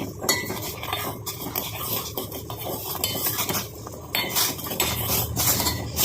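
Jaggery and sugar mixture stirred in a pan with a spoon or ladle, steady scraping and clinking of utensil against metal running throughout, fairly close and moderately loud.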